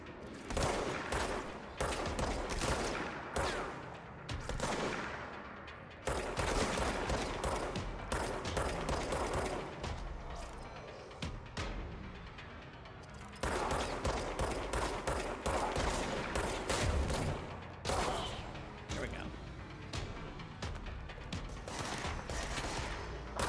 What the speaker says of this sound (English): Shooting feels good.